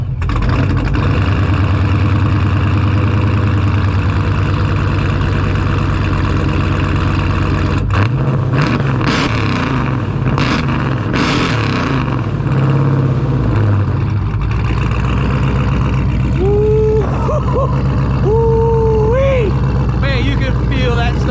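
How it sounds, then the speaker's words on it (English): Supercharged Dodge Scat Pack V8 fitted with a ProCharger, loud and close, rumbling steadily before a burst of sharp revs midway, then settling back to a heavy idle with voices talking over it. "give us a start and a couple revs"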